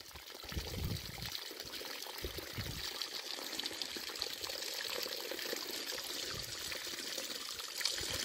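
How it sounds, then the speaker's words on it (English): Floodwater pours and trickles over the top of a sandbag barrier along a riverbank in a steady, continuous splashing flow, close and unbroken with no talking. "Water's just starting to go over the top."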